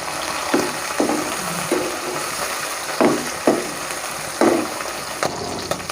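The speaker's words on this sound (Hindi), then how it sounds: "मटर जो है हमने वो 4 से 5 मिनट तक फ्राई करने हैं" Peas frying in a pan hiss with a continuous sizzle, broken by periodic louder bursts about every half second to second as they are stirred.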